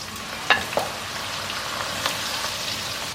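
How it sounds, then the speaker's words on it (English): Onions dusted with flour frying in vegetable oil for Harra bi Isbaou, a steady close sizzle with a couple of sharp pops near the start, no talking. "you want to fry them until they turn into these little onion crisps"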